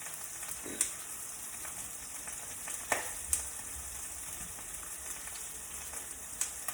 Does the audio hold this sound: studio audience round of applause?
no